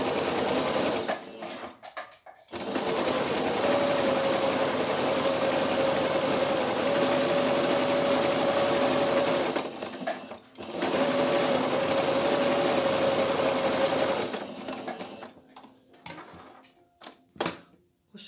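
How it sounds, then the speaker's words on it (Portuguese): A sewing machine stitches the head of a rag doll, its motor whirring steadily in two long runs separated by a short pause, fairly loud and close with no talk. "Agora eu vou costurar a minha cabecinha,"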